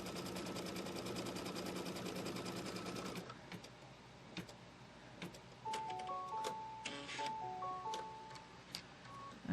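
Embroidery machine tacking down quilt fabric in the hoop for a Kimberbell Pumpkins & Potions quilt, a dense rapid stitching buzz for about three seconds, then scattered clicks and short electronic beeps as it stops.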